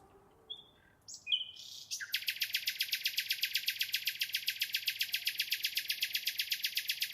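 Birds chirp at first in brief scattered notes, then settle into a fast, regular trill of bright, repeated pulses that carries on loud and steady, in a piece where a singer and a clarinet join the birds.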